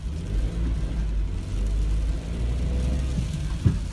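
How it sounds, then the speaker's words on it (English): A fully loaded Ford Transit van revs hard at full throttle on an icy hill during a winter ice storm, a steady low engine roar that holds loud and continuous throughout. "I'm gonna punch the throttle, full throttle, and check out the grip we get with a fully loaded transit van"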